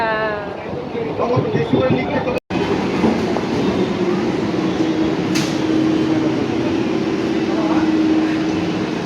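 A train hums and rattles steadily throughout, arriving at Dakshineswar station, with a brief cut partway and voices talking over the rail noise.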